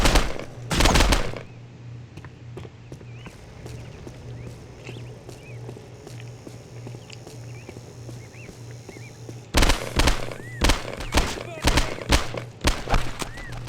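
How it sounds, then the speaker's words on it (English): Machine gun fire in a video game comes in two clusters of loud, rapid bursts, a short one at the start and a longer run of repeated volleys near the end. A quieter ambient stretch with faint game sounds lies between them. "I have a machine gun."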